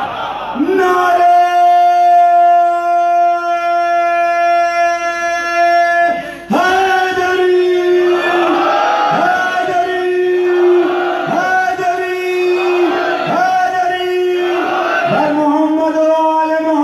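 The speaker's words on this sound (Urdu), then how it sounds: "نعرے" A congregation at a Shia majlis chants religious slogans in unison: loud, sustained collective cries that swell, break off, then return in several repeated rhythmic bursts from a large crowd.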